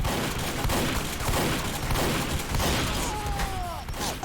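Dense rapid gunfire and explosions in the online shooter Team Fortress 2 fill the clip, loud and continuous, with whistling projectile tones near the end.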